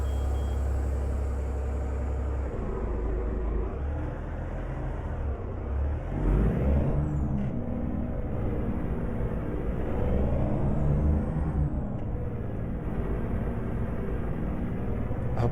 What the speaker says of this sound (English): Get her fired up, into gear, good air pressure, release the brake.